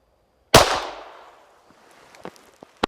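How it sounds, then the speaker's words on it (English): A single sharp, loud gunshot from a Ruger LC Carbine chambered in 5.7x28mm, echoing and trailing off over about a second, followed by a few faint clicks. "I got one more shot."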